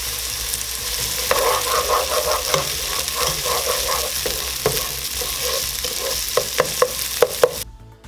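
Onions frying on medium-high heat in a pan for chickpea stew, a steady close sizzle with stirring scrapes throughout and a few sharp utensil taps near the end as it briefly quiets.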